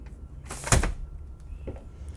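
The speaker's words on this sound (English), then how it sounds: "push this door open even further" A sliding door on a 2022 Bavaria SR41 yacht is pushed open, giving one rumbling slide with a louder thud in the middle and a faint knock after, close and quiet, with no voices.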